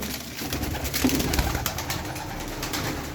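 Bango pigeons, a fancy Turkish breed, coo steadily in a dense chorus from several birds at close range, with no talking over them.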